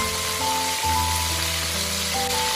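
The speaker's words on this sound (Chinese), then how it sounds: "再把炸过一遍的豆腐倒进油锅复炸一遍" Tofu re-fried in hot oil in a wok, giving a steady, even sizzling hiss from start to finish, with background music playing alongside.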